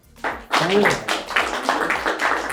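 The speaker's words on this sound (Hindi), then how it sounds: "इनके लिए पहले ताली बजाओ" Office staff clap for their boss during a visit to a Delhi office, a dense burst of applause starting after a short pause and carrying on steadily, with a voice speaking over it.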